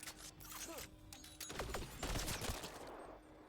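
Sharp bursts of gunfire and clattering impacts from the video game Mass Effect Andromeda, several shots in quick succession over a busy combat soundscape.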